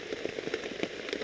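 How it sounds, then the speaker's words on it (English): Rain drums on a torn tarp shelter in bad weather, a close, uneven patter of individual drops striking the taut plastic in quick irregular taps over a steady wet hiss. "I was getting rained on even inside my shelter here."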